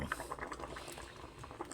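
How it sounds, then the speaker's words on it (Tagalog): Pork stew with onion, garlic and ginger bubbling at a rolling boil in a pot, a soft continuous burble of popping bubbles heard up close. "kumukulo na ang aking baboy na linaga"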